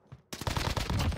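MG42 machine gun fire in the Warzone video game: a rapid, loud burst of closely spaced shots that starts abruptly after a brief quiet moment and runs without a break.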